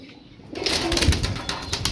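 Pigeons at a pigeon sale, a brief loud burst of cooing and wing flutter close by, starting abruptly after a quiet moment.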